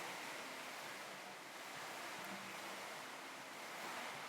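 Gusty wind roars across an outdoor microphone at a water park, a dense, steady rush that swells and eases slightly.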